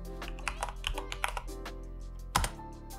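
Close keystrokes on a computer keyboard come in quick uneven bursts, then a pause and one louder final clack, over a steady low electrical hum.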